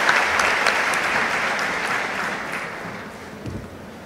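Applause from a conference audience at Ecommerce Day Buenos Aires fills the room as a dense, even wash of many hands, slowly fading over a few seconds with no talking.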